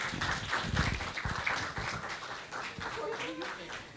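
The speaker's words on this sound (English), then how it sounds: "Please give them all a round of applause as they come up to the stage" An audience claps at a fire safety design seminar as speakers walk up to the stage, with moderate, steady applause in a hall and some talking underneath.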